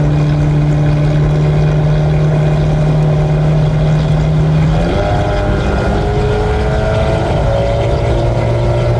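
A car with a CVT transmission, a rough-sounding engine and a bad exhaust drones loudly at constant revs, its pitch holding steady and then climbing partway through, with no talking.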